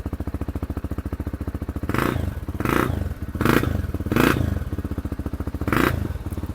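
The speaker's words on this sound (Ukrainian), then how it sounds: "Просто цей глушак створює об'ємніший звук, е, коли холостий, уточню." A motorcycle idles with a deep, throbbing exhaust putter, broken by several short revs that swell and fade back to the steady idle.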